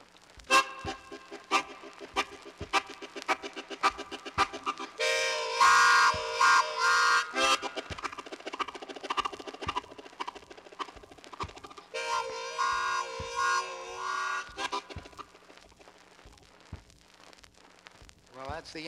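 Chromatic harmonica making a non-musical train imitation: a steady series of puffing, chuffing breaths building into harsh whistle-like blasts, close and alone with no voices.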